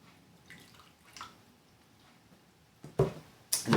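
Water poured into a corn snake hatchling's enclosure gives a couple of short, close splashes near the end after a mostly quiet stretch.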